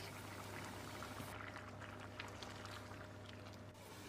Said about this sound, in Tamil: ஒரு கப் அளவுக்கு கெட்டியான தேங்காய் பால் எடுத்து வச்சுருக்கேன். இதை ஊற்றிக்கலாம்.